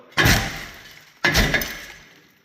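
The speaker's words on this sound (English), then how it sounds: "this is a terrible idea. Glass is gonna go everywhere." A car windshield is struck and cracks twice, about a second apart, each a loud, close crash of breaking glass that rings briefly before fading.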